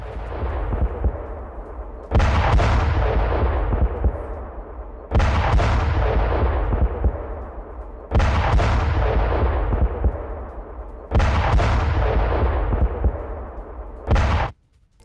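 Explosions from an Iskander ballistic missile strike on Kyiv come as four deep, heavy booms spaced about three seconds apart. Each loud blast decays into a long rumbling tail, with no talk over them.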